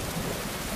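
Heavy modded rain in the video game Skyrim hisses steadily with a low rumbling undertone, a brief, loud, unbroken wash of sound with no voices.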